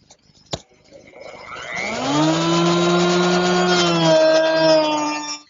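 A power router whines up to a loud, sustained high-pitched drone as it shapes the top of a wooden flagpole, riding a block on a straight edge, after a sharp knock at the start.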